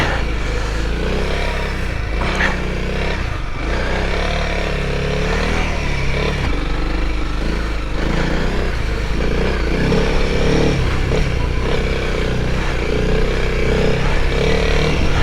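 A Honda CRF300L dual-sport motorcycle engine drones steadily and loudly throughout, with rough, uneven rumbling and clatter as it rides off-road over bumpy ground; no talking.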